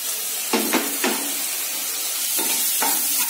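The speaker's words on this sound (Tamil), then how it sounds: "அதோட நம்ம இஞ்சி பூண்டு பேஸ்ட்டை சேர்த்து வதக்கிக்கலாம்." Ginger garlic paste fries for an egg masala in a pan, giving a constant bright sizzle broken by a few short scraping stirs of a spatula, with no voices.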